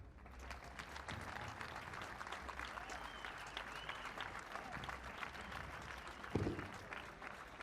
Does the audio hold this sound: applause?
yes